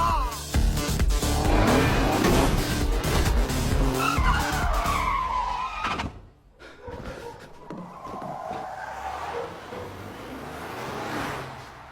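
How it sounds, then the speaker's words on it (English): A car's tires squeal and skid loudly through a sharp U-turn for several seconds, the engine roaring beneath, then a brief drop before the engine and tire noise pick up again as it speeds off. "She then pulled off a slick U-turn and darted into a narrow alley."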